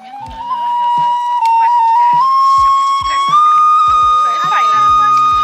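Small souvenir whistles are blown in one long, shrill, steady tone that slowly climbs in pitch, with soft rhythmic knocks underneath.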